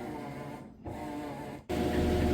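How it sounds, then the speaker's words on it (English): A Maytag Bravos top-load washing machine in its spin cycle gives a steady motor hum with a tonal whir. The sound dips briefly, then steps up louder as the drum gains speed. "we're coming up to full speed on the spin cycle"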